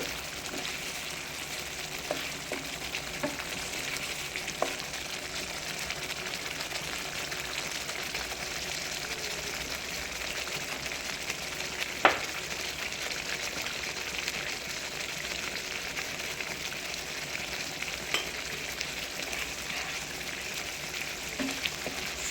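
Continuous hissing sizzle of masala frying in a pan for a sardine dish, with occasional faint scrapes and taps of stirring, steady and moderately quiet throughout.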